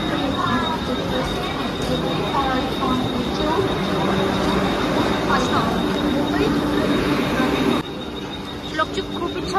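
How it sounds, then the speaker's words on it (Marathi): A Vande Bharat train pulls into a platform at Mumbai's Dadar station with a continuous rumble and roll of wheels and some metallic squeal, close and loud throughout. Station crowd noise and voices sit underneath it. "आता फायनली ट्रेन आलेली आहे, पाहू शकता."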